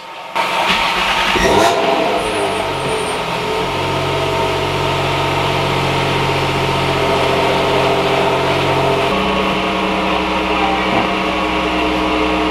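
A Nissan 350Z engine cranks and fires up after a stage 3 clutch and lightweight flywheel install, then settles into a steady, loud idle with a deep drone and a slight shift in tone near the end.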